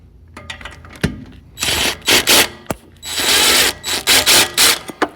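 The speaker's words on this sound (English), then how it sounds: "It would help if I used the right size wrench." A ratchet wrench works a bolt on a Firebird Trans Am engine during engine removal, producing loud, close bursts of rapid clicking in several quick runs separated by short pauses and small metallic knocks.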